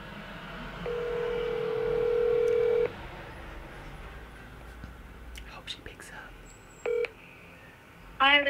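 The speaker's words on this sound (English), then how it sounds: "Let's go ahead and make this phone call." Telephone keypad tones from an outgoing call, with a long tone first, then a few short beeps and a final quick burst of dialing notes, all sounding close and clear over a quiet background.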